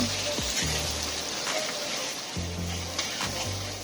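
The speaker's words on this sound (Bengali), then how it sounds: "প্রথমে গরম তেলে শুকনো লঙ্কা তেজপাতা গোটা গরম মশলা ও কুচনো পেঁয়াজ দিয়ে দিল" Dried chillies, bay leaf, whole spices and chopped onion fry in hot oil, giving a steady, close crackling sizzle that runs throughout, with a low hum and a few brief tonal sounds beneath it.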